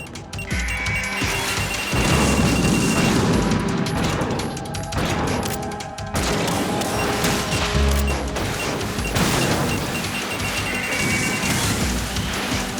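Dense, continuous barrage of missile explosions and crashing impacts in the Metal Gear Solid 2 Substance video game, loud and relentless with a few short dips between waves of blasts.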